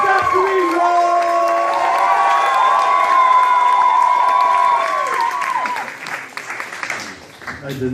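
A stand-up comedy crowd claps and cheers for a comedian at a Berlin venue, loud and sustained with whoops and shouts riding over the clapping before it thins out toward the end.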